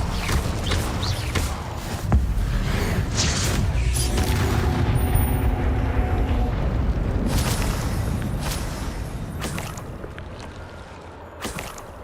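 Incendio fire spells cast in Hogwarts Legacy, loud rushing bursts and booming whooshes layered over one another, rising and fading across several seconds before a quieter tail.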